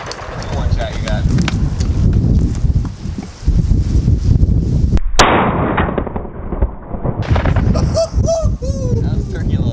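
A shotgun loaded with turkey load fires once at pigeons during a hunting tournament, a loud sharp blast amid strong wind noise and excited shouting voices outdoors.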